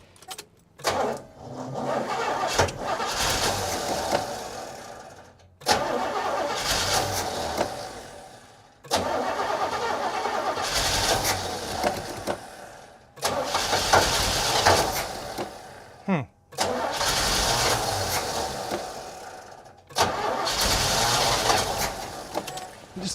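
The engine of a 1969 Buick Riviera GS, left unstarted for about 30 years, cranks in six long, loud churning bursts, each several seconds, separated by brief pauses, without catching.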